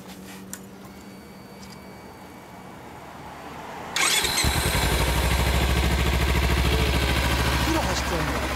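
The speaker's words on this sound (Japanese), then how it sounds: "ほなこっち先エンジン音聞かせてもらえる？" A quiet background with faint sounds, then a 2016 Harley-Davidson Sportster XL1200C engine abruptly starts about halfway through and keeps running loudly in a steady, throbbing idle.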